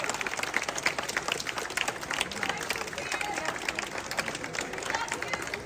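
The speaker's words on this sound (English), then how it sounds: "A huge round of applause for Piers!" A rally crowd against 15-minute cities in Swindon breaks into sustained applause for a speaker, dense steady clapping with scattered voices mixed in, filling the whole stretch at an even level.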